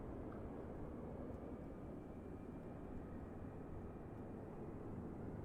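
A steady, low aircraft engine drone from Microsoft Flight Simulator holds on continuously at a constant level, rumbling and dull with no talk over it.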